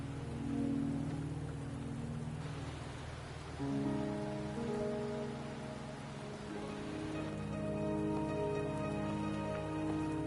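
Steady rain falls in the video game Wuthering Waves, a soft even patter that runs alongside sustained musical tones, with no voices.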